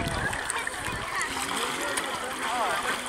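Water splashing as a child dives and swims underwater at a lake, loud close splashes and churning water with children's voices shouting over it.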